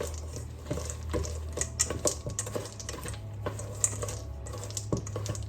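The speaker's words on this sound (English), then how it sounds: "I'm just gonna mix that up" Blondie batter with chocolate chips being stirred in a bowl, giving a close run of irregular soft scraping and clicking strokes over a steady low hum, with no voices.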